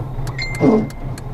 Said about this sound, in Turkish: Aracın frene bastığım anda silgeçler çalışıyor.